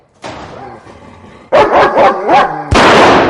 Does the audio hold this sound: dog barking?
yes